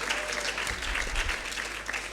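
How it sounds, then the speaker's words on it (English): Conference audience applauding the men in the room, a dense continuous round of clapping at close range that holds steady throughout without a voice over it. "Can we give them a round of applause?"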